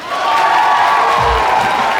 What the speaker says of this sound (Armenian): հարսիկի կողմնա ծափ էր տալիս